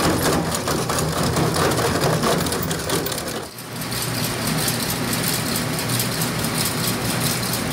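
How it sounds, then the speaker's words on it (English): An industrial shredder grinds network switches into tiny bits, producing a dense, loud, continuous crunching roar that dips briefly and then resumes at full force. "The shredder grinds them into tiny bits."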